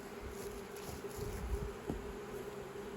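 Honey bees from an opened hive during spring hive equalizing make a faint, steady buzzing hum, with a few soft handling bumps.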